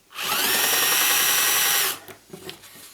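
A power drill whines loudly and steadily for nearly two seconds up close while countersinking a hole, then stops, followed by faint rattling and handling sounds.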